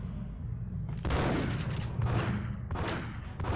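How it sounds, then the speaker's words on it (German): In the video game Max Payne, an enemy empties his magazine in rapid bursts of gunfire, roughly three loud volleys about a second apart over a low steady background. "Ich lasse ihn mal seine Magazine leer schießen, ne?"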